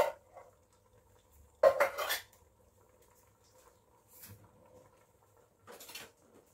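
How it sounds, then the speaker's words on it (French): Whole tomatoes poured from a container into a salad bowl, a few brief clattering, squishy thumps spaced apart, quiet and close with near-silence between. "Il vous suffit de verser les tomates entières dans un saladier."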